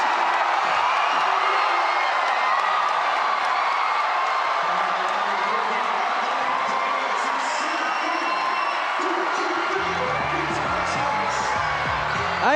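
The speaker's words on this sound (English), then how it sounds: "I couldn't tell anymore what is a whistle and what is a shriek from the crowd" Crowd at a Philippine MPBL regular-season basketball game between Quezon and Parañaque cheering and shrieking continuously, loud and close throughout, with a commentator's voice running under the noise.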